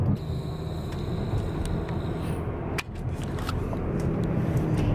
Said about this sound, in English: Always, forever in the car.